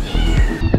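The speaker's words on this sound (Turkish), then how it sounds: "Ah bebek kediler, her yer kedi." A kitten gives one short, loud, close meow on a winter seaside street in Gümüşlük, Bodrum.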